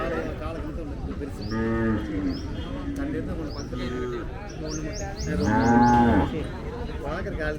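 Cattle at a native cattle market in Palayakottai, Tamil Nadu, letting out two long, loud, close moos with faint bird chirps and crowd murmur in the background.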